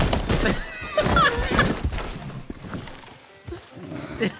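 An injured horse in the video game Red Dead Redemption 2 lets out strained whinnies and neighs up close, with hoof clip-clops and scattered game sounds around them.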